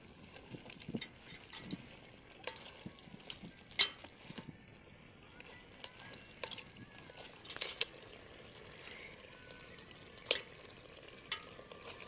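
Crabs and fish curry is stirred in a pot over an outdoor wood fire: soft sizzling and bubbling under irregular scraping and clinking of a spoon against the pot, fairly faint and close.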